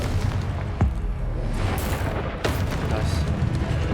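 Confringo blasting-curse explosions in Hogwarts Legacy, with two sharp booming blasts over a constant rumble of game noise, and a voice speaking under them.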